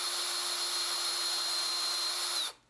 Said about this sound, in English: I'm giving it a good deal of pressure and trying to keep it really straight and not going very fast drill speed wise.